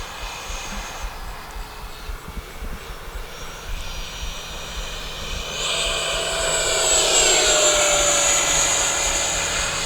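An FMS F-18 Super Hornet 70mm electric ducted-fan RC model jet flying at full speed, its whining turbine-like roar rising and swelling louder as it passes close overhead, with steady tonal whine throughout and no talking.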